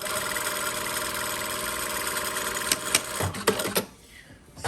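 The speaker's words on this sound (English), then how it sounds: "I'm just going to sew the center line together at 1 centimeter." A sewing machine stitching the center back seam of a bustier dress at a one-centimeter allowance, a steady close whirring run that ends with a few clunks before the motor stops.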